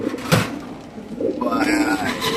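Racer pigeons kept in cages give soft, low cooing amid a busy market-like background, with someone talking nearby over the birds and some rustling.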